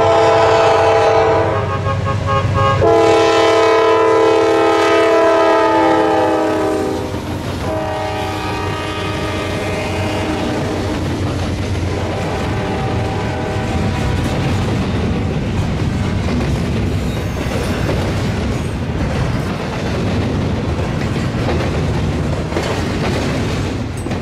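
A train at Fostoria sounds a loud, close multi-tone horn in long blasts, then rumbles past on the rails with steady wheel noise and clatter that continues to the end.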